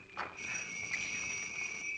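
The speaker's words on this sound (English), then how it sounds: "Listen to those crickets." Crickets chirp in a continuous high, steady trill, fairly close, with a soft background hiss and no voices, in a 1944 radio drama.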